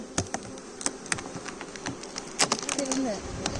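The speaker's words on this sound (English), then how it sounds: "Shake all the bees, because any bees that you trap in here are going to die." Bees from an opened honey hive buzzing close by in a steady drone, with scattered sharp ticks and clicks from handling the frames, and a faint whistle-like tone near the end.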